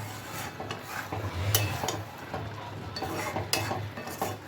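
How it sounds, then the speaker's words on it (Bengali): Pumpkin greens with lentils and spices are stirred in a pan, giving soft repeated scraping and rubbing strokes over a faint sizzle, close and quiet, with no talking. "এবার একটু মিশিয়ে নিচ্ছি উপর নিচে করে।"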